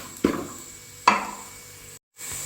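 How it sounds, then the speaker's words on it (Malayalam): Spice powder and onion being sautéed in a pan for a soybean roast, with two sharp stirring scrapes and a soft sizzle beneath, then a brief cut to silence before the gentle frying resumes. "നന്നായിട്ട് ഒന്ന് വഴറ്റുക"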